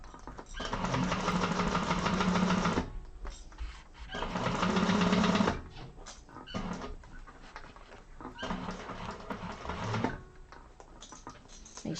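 A sewing machine stitching a 5/8-inch seam on a hobo bag, running in three steady bursts of rapid stitching separated by short pauses, close and clear.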